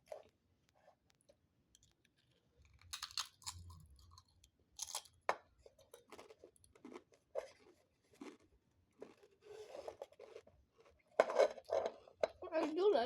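Close, crunchy chewing of food in bursts between pauses, mixed with faint clinks of dishes or cutlery; a voice speaks briefly between bites.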